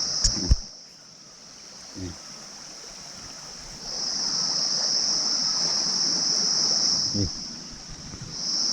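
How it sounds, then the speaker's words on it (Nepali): A stream flows steadily through a botanical garden, a soft continuous rush that swells midway, with a high constant tone above it and a few brief knocks and voices. "यो अहिलेको पानी यहाँ बगेर यता आउँदो रहेछ।"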